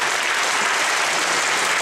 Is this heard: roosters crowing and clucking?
no